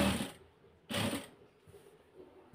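A sewing machine stitches pieces of cloth together in two short, loud bursts of whirring, separated by a brief quiet gap.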